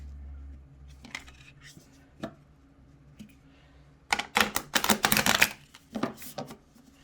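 A deck of stiff, brand-new Earth Moon and Shadow oracle cards is riffle shuffled nearby, with light tapping first and then a dense burst of fluttering card riffles, followed by a few more flicks.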